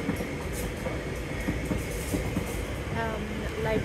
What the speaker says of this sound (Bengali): এটা হচ্ছে লন্ডনের সবচাইতে দামি ট্রেন এটা